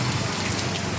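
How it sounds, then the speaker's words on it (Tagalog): Heavy typhoon rain pours down steadily in Quezon City, a loud, dense, unbroken hiss close by. "Talagang ulan ng malaki."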